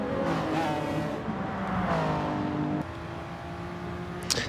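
Gr.3 race cars roaring down the Bathurst start-finish straight in a racing video game, a dense wall of engine drone with shifting pitch as cars pass, steady and loud throughout.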